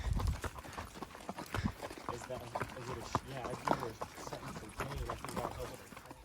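A horse named Boudreaux walks on a mountain trail during a cattle drive, its hooves striking in a steady, close clip-clop rhythm that continues throughout with faint voices in the background.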